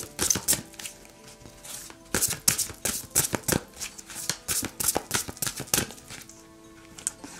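Tarot cards being shuffled for a reading, a close, crisp run of riffling bursts that start, pause briefly and resume in an uneven rhythm, with no talking over them.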